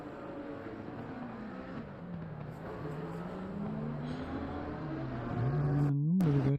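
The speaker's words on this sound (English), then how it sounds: "the drivers are going to do a virtual safety car lap" Race cars run a slow virtual safety car lap at the Misano circuit, a steady distant engine drone whose pitch rises and falls gently, growing louder toward the end.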